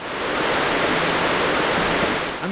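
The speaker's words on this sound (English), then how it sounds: "Oh, I do hear a waterfall" A waterfall in the video game Another World gives a steady, loud rushing roar of falling water that stays constant throughout, with no voices.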